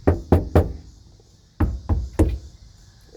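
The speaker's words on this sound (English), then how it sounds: "knock" Knuckles rap on the metal panel of a 1988-98 GMC/Chevy C/K 1500 truck during Kilmat sound deadening work, two crisp sets of three knocks separated by a pause, close and solid.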